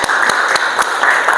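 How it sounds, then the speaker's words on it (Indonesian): Students clap together in a classroom, a short burst of brisk, uneven hand claps filling the room at close range. "Tepuk tangan."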